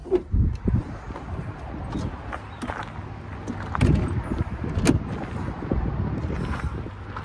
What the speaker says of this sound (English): The winds are still crazy high.